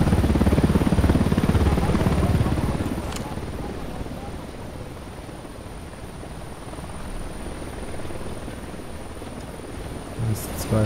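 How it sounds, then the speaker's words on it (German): A helicopter in Ghost Recon Wildlands, its rotor thrum and engine roar loud at first, then easing into a steady drone with occasional faint voices. "Ein Heli, los, runter."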